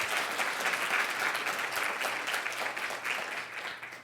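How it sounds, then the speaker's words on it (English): An audience at a maternal health innovation session gives dense, sustained applause for the organizing committee and staff, steady for several seconds before starting to fade. "Can we just get a round of applause for them"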